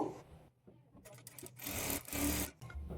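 A sewing machine stitches a sleeve piece with a quarter-inch margin, a short run of quiet, steady mechanical whirring that swells briefly after a pause.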